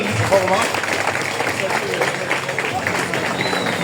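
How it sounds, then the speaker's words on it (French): An audience applauds a general at an evening gathering, a steady wash of clapping mixed with crowd noise and talking. "Applaudissons-le."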